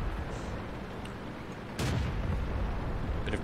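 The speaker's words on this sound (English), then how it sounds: "Someone else's recording will look awesome now with that explosion I just provided" An explosion in the tank game World of Tanks erupts as a sudden loud burst partway through, over steady rumbling battle noise, followed by a sustained heavier roar.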